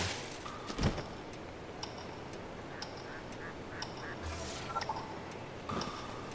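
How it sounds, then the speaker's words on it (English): Ducks quacking in The Legend of Zelda: Breath of the Wild, a few short calls scattered over a steady outdoor ambience, moderately near and fairly faint. "Yo, ducks! Bye, ducks."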